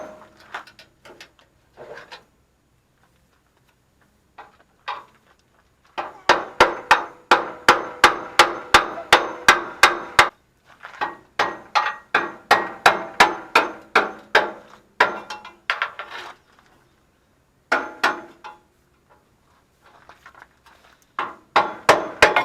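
Hammer striking an old exhaust hanger under a Chevy C10, fast runs of sharp metallic blows in several bursts separated by short pauses, close and loud.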